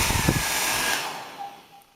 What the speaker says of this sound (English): sounds like a hairdryer. Has a lower speed, then noisy, gets hot.